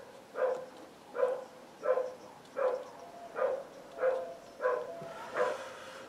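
A dog barks steadily, eight evenly spaced barks at moderate distance, each short and similar, with quiet room noise between them.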